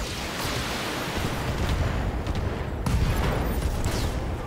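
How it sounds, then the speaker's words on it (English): Dense, roaring game-battle din in Thorium Mercs as a mech's ammo cooks off, a continuous blast-and-rumble wash with a sharp surge near the end, no voices. "It was an ammo explosion that caused it."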